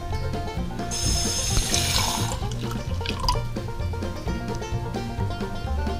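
Water pours steadily into a pot for cooking grits in a kitchen, a continuous splashing stream heard up close with no talking.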